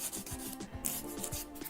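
Quick back-and-forth rasping of a nail file shaping a soft gel nail tip, close and fairly quiet, in short repeated strokes with no talk.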